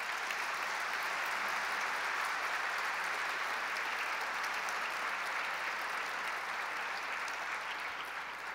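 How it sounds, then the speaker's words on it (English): Steady applause from a luncheon audience at a governor's announcement, sustained and dense throughout with no break, fairly distant and even in level. "Let's give them a round of applause."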